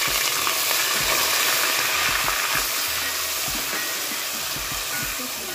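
Coarsely ground onion paste frying in a pan, a steady close sizzle and hiss with soft stirring scrapes, continuous throughout.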